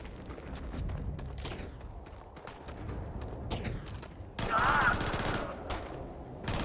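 Gunfire from the Starfield video game, Shattered Space expansion, with pistol shots cracking in quick irregular bursts at moderate level amid a busy, cluttered mix of game sounds.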